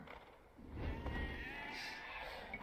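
Sheep from an Age of Empires II match between Turks and Persians on the Arabia map give a brief, faint bleat within a quiet couple of seconds of game sound.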